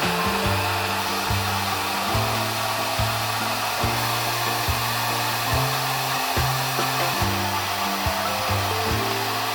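Hair dryer fitted with a diffuser runs steadily and loud while drying curly hair, its constant roar broken by regular low rhythmic pulses about once a second as the hair is scrunched and the diffuser is lifted and pressed.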